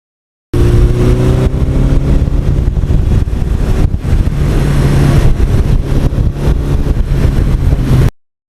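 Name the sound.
1982 Suzuki GS1100E motorcycle engine at wide-open throttle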